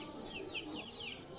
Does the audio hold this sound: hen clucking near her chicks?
yes